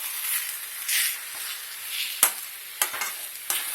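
Rice rava for upma stirred in a frying pan, a soft continuous sizzle under scraping spoon strokes with a few sharper clanks against the pan, close and alone.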